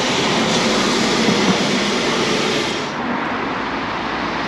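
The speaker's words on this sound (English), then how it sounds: "It's nice to see one of Portugal's trams go past." Lisbon's busy tram 28 rumbles past on a city street near the castle, a loud, steady roar of rolling wheels and traffic noise that fills the whole stretch.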